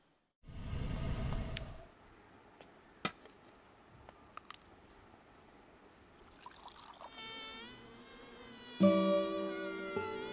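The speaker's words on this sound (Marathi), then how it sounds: "ते किडे आहेत ना." Insects buzz with a steady, thin drone, punctuated by a few faint clicks, before a louder, fuller buzzing swells near the end.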